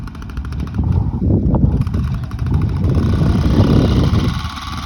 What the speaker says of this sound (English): That's the sound of a half-hearted throttle attempt.